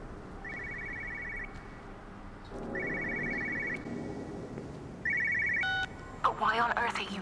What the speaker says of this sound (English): You have a phone ringing somewhere.